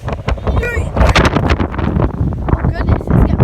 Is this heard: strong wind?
yes